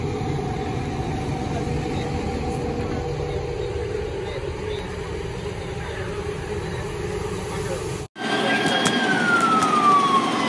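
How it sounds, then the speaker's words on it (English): Fire engine siren passing during a storm, a steady wailing tone over rain and rumbling background noise, cut off by a brief dropout near the end before a higher sweeping siren wail returns. "Oh, here comes another engine."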